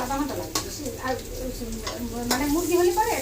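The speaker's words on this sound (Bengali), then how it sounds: "এখন আলু ভাজি করা হচ্ছে" Potatoes frying in a home kitchen pan give a steady sizzle with stirring scrapes, with a faint voice briefly heard underneath and a few sharp clinks of a utensil against the pan.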